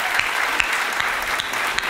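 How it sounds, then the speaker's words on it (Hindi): Loud, sustained applause from an audience at a Teachers' Day gathering, a thick, even wash of many hands clapping with a few sharper claps poking through. "इसके लिए आप लोग जोरदार तालियां बजाकर उनका सम्मान करें"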